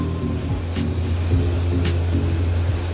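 A local train arriving at Goregaon station, a loud steady low rumble with rhythmic clacks and hiss bursts as it rolls in.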